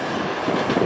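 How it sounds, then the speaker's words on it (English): A freight train pulls out of a rail yard with a loud, steady rumble and faint clatter of cars on the tracks, close and continuous with no talk. "Holy moly, we got a train pulling out."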